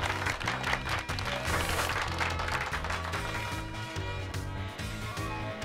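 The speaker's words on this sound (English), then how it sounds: "Give Pikachu a round of applause," Steady applause and clapping from a crowd in Pokémon Violet, continuous throughout, mixed with a bright musical background.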